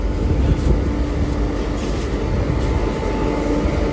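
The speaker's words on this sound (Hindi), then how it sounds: "ट्रेन आ गई" Delhi Metro train pulling into Hauz Khas station at night, a steady loud rumbling roar of wheels and motors filling the platform without letup.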